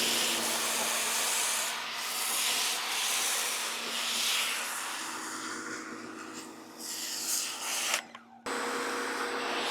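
A Ryobi high flow electric pressure washer runs with a steady, fairly quiet spraying hiss. Its water jet shifts slightly in texture, and a brief interruption near the end is followed by a renewed hiss.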